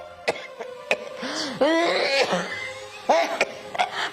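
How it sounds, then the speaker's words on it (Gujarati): Several sharp coughs and throat-clearing bursts from a nearby person, with hoarse vocal sounds between them, spread unevenly over a few seconds. "ઉધરસ આવે છે"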